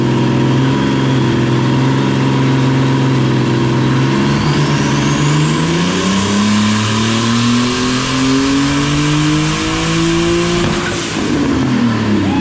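An adult-sized go kart engine revs hard on a dynamometer, its pitch climbing steadily through a sustained, loud pull before backing off near the end, with no talk over it.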